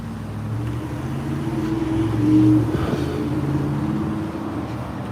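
Cars move through a city intersection, giving a steady low engine rumble that swells as one vehicle draws nearer and passes, then settles back to a constant drone with no talking.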